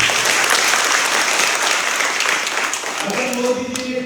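Crowd at a political booth campaign rally in Agartala, Tripura, breaks into loud, sustained applause, a dense roar of clapping that holds steady, with a voice starting to speak over it near the end.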